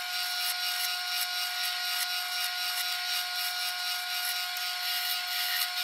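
A roughing gouge scrapes steadily against an olive wood slimline pen blank spinning on a lathe, a continuous high, hissing cut with a steady whine and faint periodic ticks.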